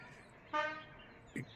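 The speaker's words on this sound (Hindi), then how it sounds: "बड़ी गाड़ी है वो हॉर्न दे रही है" A single short vehicle horn toot, followed by a brief faint chirp-like blip against quiet background noise.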